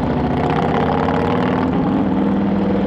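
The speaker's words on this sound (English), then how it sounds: "Listen to those throttles, man." Suzuki GSX-R 1000 motorcycle engine at a Thunder in the Valley rally, a loud, close, steady throttle drone with a deep rumble that holds level without a clear rev peak, alone with no talking.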